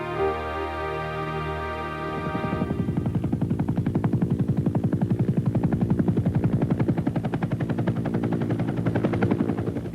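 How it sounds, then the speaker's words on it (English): A military helicopter approaches a jungle landing zone in wartime, its rotors building into a loud, steady, rhythmic chopping that dominates after the first couple of seconds. "the sound of helicopter rotors couldn't have come soon enough"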